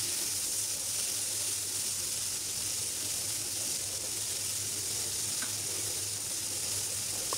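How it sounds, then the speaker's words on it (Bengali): A chicken curry base of onions with salt fries in a pan, producing a continuous, fairly faint hiss and sizzle with no talking. "লবণ দিয়ে আরও কিছুক্ষণ ভেজে নিচ্ছি।"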